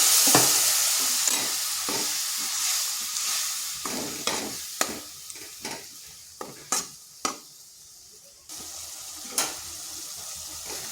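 Spice paste for a vegetarian pumpkin and Gobindobhog rice dish sizzles in oil in a kadai, with scraping stirs and sharp clacks of a spatula against the pan, the sizzle fading gradually.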